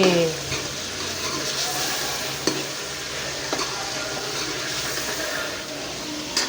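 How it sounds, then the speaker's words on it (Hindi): Chicken and potatoes frying in a pan with yogurt, sizzling steadily up close, with occasional stirring scrapes and clinks. "अब जी इसको भूनते हैं।"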